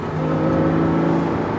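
A 2006 Porsche Cayman S sports car engine revs, its note rising in a short, loud, close sweep with a smooth tonal whine.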